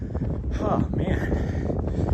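Strong wind buffets the microphone on a steep mountain trail during a run, a loud, rough roar that runs through the whole moment, with a voice briefly audible over it.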